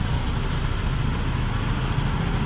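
A Yamaha Soul GT 125 fuel-injected motorcycle engine runs steadily at about 1600 rpm, its low, even idle rumble filling the short stretch without pause. No one speaks.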